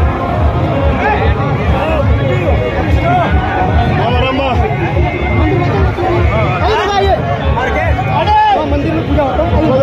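Loud, dense hubbub of a large crowd of thousands of supporters and party workers at a political rally, a constant wash of overlapping voices and chatter running throughout.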